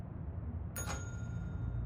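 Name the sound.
bell rung in video game Control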